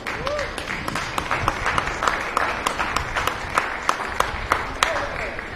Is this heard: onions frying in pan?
no